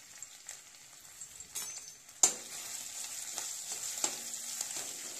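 Cumin seeds, ginger-garlic paste and onion frying in hot oil, a soft continuous crackling sizzle that jumps sharply as something hits the pan, then keeps hissing with scattered pops.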